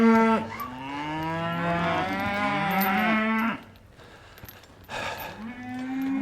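Cattle mooing loudly and close in a farm shed, several long drawn-out calls overlapping for a few seconds, a short pause of quieter background, then another moo rising at the end.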